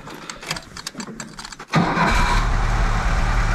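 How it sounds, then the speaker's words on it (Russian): A restored off-road vehicle's engine cranks briefly after a stretch of quiet background, then catches and settles into a loud, steady idle that carries through to the end. "Проверяем автомобиль, как у нас заводится."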